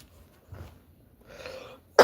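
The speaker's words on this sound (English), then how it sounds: "And y'all, my cough going away." A single person coughs up close, a soft throat sound followed by a sharper, louder cough at the very end, with near silence around them.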